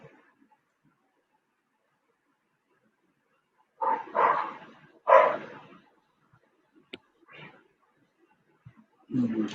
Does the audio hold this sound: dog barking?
yes